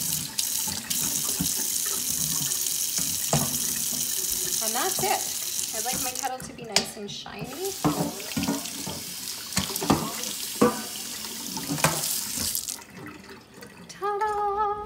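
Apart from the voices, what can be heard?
water running from a sink tap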